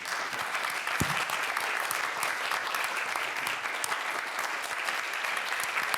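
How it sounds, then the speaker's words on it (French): Steady applause from the audience at a Cannes 2021 film press conference fills the room, dense and continuous for several seconds with no one speaking. "pour accueillir les applaudissements les plus chaleureux du public"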